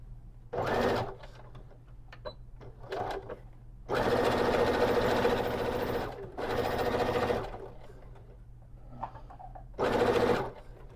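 A sewing machine stitches a small pouch for a tote bag, running in several bursts of a few seconds each, the longest nearly three seconds, with brief pauses and faint handling noises between runs.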